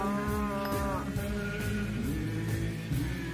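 Cow mooing in the video game Minecraft, a drawn-out harmonic low call standing out over a busy, continuous game soundscape.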